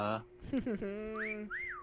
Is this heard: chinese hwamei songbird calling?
no